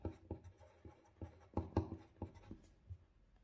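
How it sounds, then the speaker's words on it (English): A 2B Impression pencil writes on paper, making soft, close scratching strokes in an uneven rhythm of short taps and scrapes in a quiet room. "let's try and write something here."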